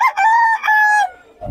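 A rooster offered for sale at a Filipino cockfighting-bird market crows once, loud and close, in a long drawn-out call with a rising then sustained tone, followed by a brief low thump at the end.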